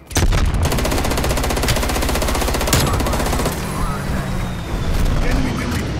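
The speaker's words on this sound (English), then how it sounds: "Commence strafe run mission." Rapid automatic gunfire from an aircraft strafe run in the video game Call of Duty: Cold War, a loud continuous rattling burst that runs for several seconds, then gives way to rumbling engine and explosion noise.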